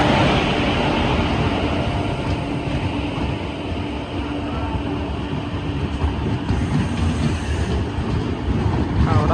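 The Falaknuma Express passes with a heavy, steady rumble and rolling wheel noise that stays loud and even from start to finish.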